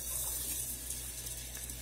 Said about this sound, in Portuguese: Agora eu venho aqui com a água.